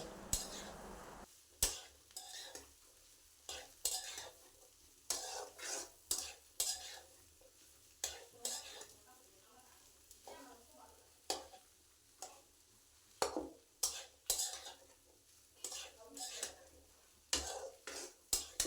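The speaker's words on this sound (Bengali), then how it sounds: "এইভাবে নাড়াচাড়া করলে আলুটা মিশিয়ে যাবে" Potatoes in a frying pan being stirred with a spoon, giving irregular, close clinks and scrapes against the metal over a soft, steady sizzle, with no talking.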